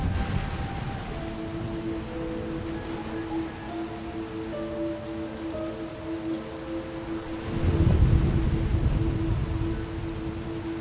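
Rainstorm in the video game Star Wars: The Old Republic, a steady hiss of rain on surfaces under sustained musical tones, swelling louder with a low rumble toward the end.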